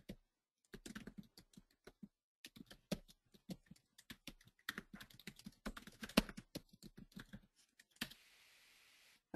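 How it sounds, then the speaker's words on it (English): Fast, irregular typing on a computer keyboard, crisp clicks in bursts with short pauses, close and quiet, with no speech. "Okay, so I'm typing,"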